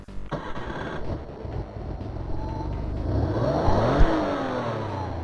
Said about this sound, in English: There's engine sound effects too.